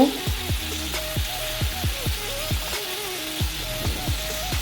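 Turmeric and salt frying in a pan with karkol (spiny gourd) filling, a soft sizzle under evenly spaced low knocks and taps of a utensil against the pan.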